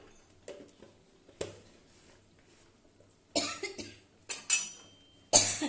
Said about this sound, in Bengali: শুকনো লঙ্কা ফোড়নে দিলেই হাঁচি কাশি হবে।